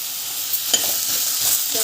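Onions sautéing in a pan for a South Indian breakfast dish, a steady close sizzle with soft stirring scrapes, no voices.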